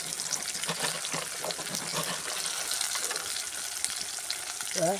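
Ingredients for a drumstick tamarind curry sautéing in a pan give a steady, close, dense sizzle with faint stirring scrapes throughout, and no talking.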